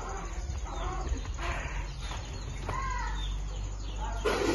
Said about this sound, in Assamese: এয়া মুৰ্গী দি ভৰ্তি